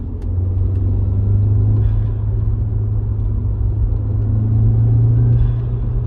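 A loud, steady engine drone with a deep rumble from a 2004 Audi A4 1.8T Quattro manual with a custom cold air intake, rising slightly in pitch as it pulls under load in third gear.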